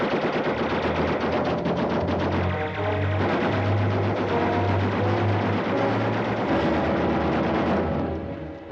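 Sustained rapid machine-gun and rifle fire from a 1945 WWII film about an infantry platoon, a loud dense rattle of repeated shots lasting nearly nine seconds with a low droning tone underneath and no speech.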